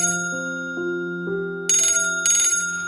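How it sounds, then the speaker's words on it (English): A telephone rings loudly with a melodic electronic tone sequence of stepped notes, followed by two bright bursts of ringing, heard alone without talk. "when the phone rang"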